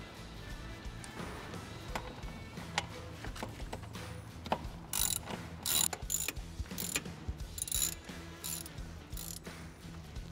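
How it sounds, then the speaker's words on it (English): A hand ratchet clicks in quick bursts while backing out the 10mm bolts that secure the throttle body on a Chevy Silverado, close and fairly quiet with short rapid runs of clicks in the second half. "Remove the three 10mm bolts."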